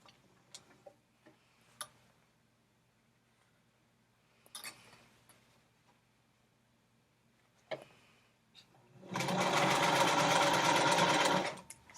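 Scattered soft clicks and taps of fabric being positioned under the presser foot, then a close sewing machine bursts into a fast, steady whir for about three seconds as it stitches a seam around a sharp corner.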